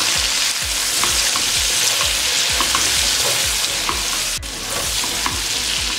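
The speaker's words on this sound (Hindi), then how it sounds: "इसको 30 सेकंड के लिए हम फ्राई कर लेंगे" Red chilli powder and garam masala frying in hot oil for mutton pulao make a loud continuous sizzle, with rhythmic scraping strokes of a spoon stirring the pan throughout.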